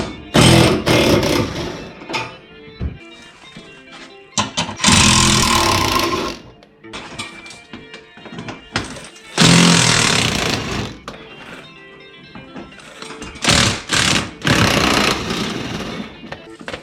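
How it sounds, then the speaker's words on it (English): Repeated bursts from a power gun with an 8mm socket spinning screws out on a 2016 Ford F150, loud buzzing whirs separated by short pauses, close up. "got that set up here on the power gun, and we're going to spin those screws out real quick"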